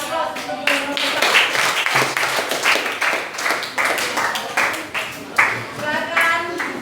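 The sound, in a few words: applause for group 4 after their presentation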